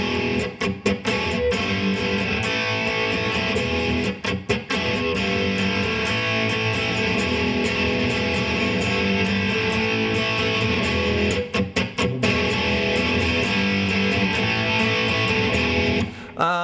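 A sustained, heavily overdriven Gibson Les Paul Standard chord ringing out through a Line 6 practice amp on its Insane channel, with a few brief choked gaps, played alone without talk.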